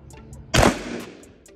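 A single loud shotgun blast fired with large 3T birdshot pellets, a sharp close report at mid-clip that decays into a short rumbling tail, with faint background noise before it.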